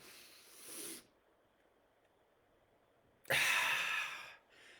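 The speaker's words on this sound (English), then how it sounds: "I'm actually breathing a little bit hard from doing this." Heavy breathing after physical exertion: two strong, breathy exhalations heard close up, separated by a quiet pause, with no talking.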